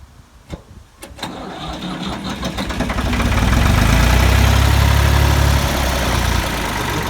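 A Ford 2000 tractor engine cranks with a few sharp clicks, then catches and revs into a loud, steady rumbling idle, close by and alone.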